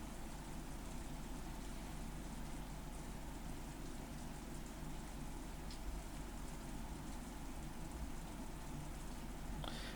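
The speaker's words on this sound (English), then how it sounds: "All that could be heard was the sound of the rain" Steady rain falls in the Umineko visual novel, a constant soft hiss of drops on surfaces that continues evenly without any voices.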